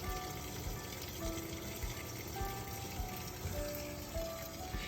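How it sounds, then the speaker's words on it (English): Soft, steady rush of water pouring into the tub of a Maytag Bravos XL washing machine on a full water load, with faint mechanical hum and occasional light clunks, quiet and continuous. "now you can hear it doing the full water load."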